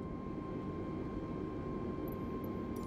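An airplane in Microsoft Flight Simulator taxis to general aviation parking, giving off a steady, even engine hum and rumble with a constant tone throughout and a few faint high blips near the end.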